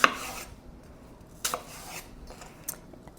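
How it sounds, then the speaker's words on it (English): A knife slices through an apple in a home kitchen, giving a few sharp, close cuts and scrapes with quiet pauses between them and no talking. "So I'm just going to slice this, just take off some"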